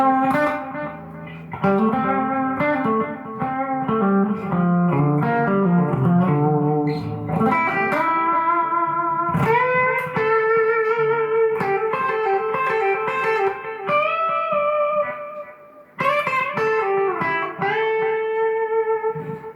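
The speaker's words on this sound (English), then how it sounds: "Then a tape echo." Electric guitar through a Vox Valvetronix VT40+ amp with a tape echo effect, a sequence of picked notes and chords with repeating echoes trailing each one, loud and continuous with no talking.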